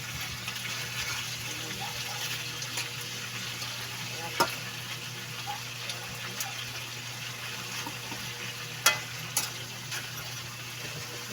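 Butter pork with plenty of garlic sizzles steadily in a pan, a soft continuous fry with a few faint clicks of stirring and no voices over it.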